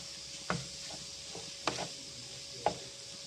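Eggs frying in a pan for carrot halwa (gajar ka halwa), a faint steady sizzle broken by three or four soft scrapes or taps of a spatula, with no talk.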